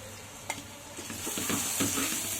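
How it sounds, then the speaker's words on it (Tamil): Garlic paste hits frying onions in a pan and is stirred quickly, a close sizzle with scraping strokes and a sharp clink of the spoon early on. "பூண்டு வந்து சீக்கிரமாக அடி பிடிச்சிடும் அதனால கடகடன்னு போட்டு கிண்டி விட்டுருங்க"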